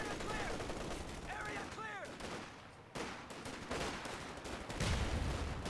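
Gunfire from Company of Heroes 2, a .50 cal machine gun among light cover with an M20 vehicle crew nearby, rattling in dense bursts and volleys with explosions, mixed with game effects and brief voice barks.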